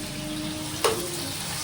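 Bay leaves, cinnamon, cloves, cardamom and stone flower fry in oil and a little ghee for Ambur biryani, giving a steady close sizzle with a single sharp clink partway through.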